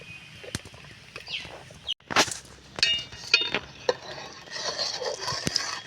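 Spoon stirring and scraping a rice flour mixture in a pot, with sharp clinks and brushing scrapes in irregular bursts, close by with no talk.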